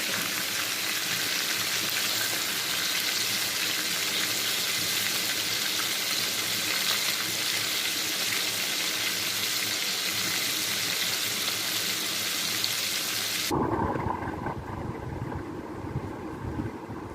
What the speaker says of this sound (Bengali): আমার চিকেন ফ্রাই করা হয়ে গেছে, কমপ্লিট